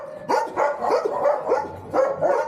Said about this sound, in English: See? Dogs everywhere.